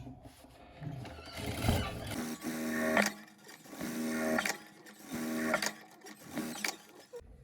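A sewing machine stitches a fabric pot holder made from scrap fabric with batting. It runs in fairly quiet mechanical bursts of rapid whirring, with short pauses between runs.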